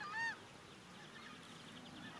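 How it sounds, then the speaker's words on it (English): A single short, loud goose-like honk from a southern screamer, a turkey-sized Brazilian bird, opens the moment, then fainter honking drifts on under a steady outdoor hiss. "Ornithologists have studied the power of its honk and have quantified it."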